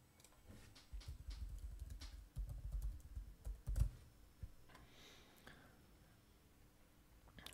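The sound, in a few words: typing an email address on a computer keyboard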